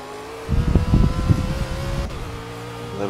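A BMW Z4 GT3 race car in Project CARS on the Nürburgring GP circuit accelerates with a loud, rising engine note that surges for about a second and a half, then eases into a steadier drone.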